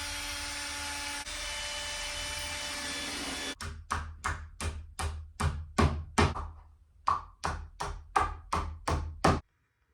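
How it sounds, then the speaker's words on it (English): A hammer drives a nail into wood in the barn living space, about a dozen sharp, close, evenly paced blows with a short pause partway, after several seconds of steady mechanical hum. "I'm just gonna get this thing nailed in place"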